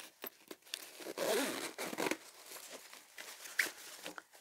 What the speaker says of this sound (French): la grosse fermeture éclair là